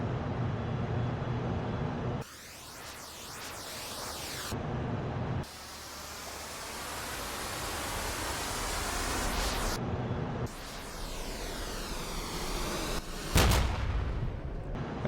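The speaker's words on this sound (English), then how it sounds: "rockets inbound" Incoming rockets in the military shooter Arma: long roaring rushes of noise rise in waves with abrupt cut-offs between them, ending in a sharp blast, loud and sustained without talking.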